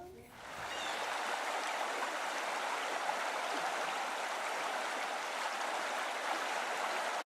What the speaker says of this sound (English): The Eno River has lots of rocks in it.